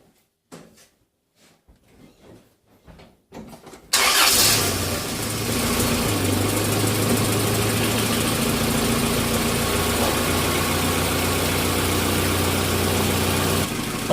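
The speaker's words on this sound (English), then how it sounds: "start the engine up" A 1995 Holden Rodeo with a 2.6-litre engine cranks in a few short bursts, then fires and settles into a loud, steady idle with a constant low drone and no talk over it.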